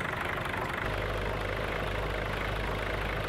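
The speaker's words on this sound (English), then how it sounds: "let's have a listen to the engine. Oh, old diesel." Old Güldner 75A diesel tractor engine idling in Farming Simulator 19, a steady low rumbling drone that deepens and thickens just before the first second and then holds loud and close, with no speech.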